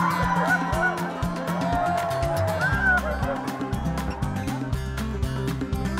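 Ducks honk and quack in a noisy cluster at a village duck-catching contest held in muddy ground in Bali, the calls overlapping continuously over a low background drone.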